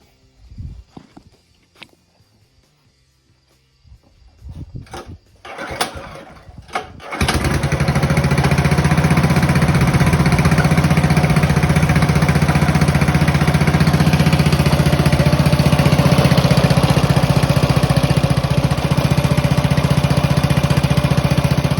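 A Honda-engined Farmall tractor cranks in a few short bursts, then catches and settles into a steady, loud, close engine drone that runs unbroken to the end.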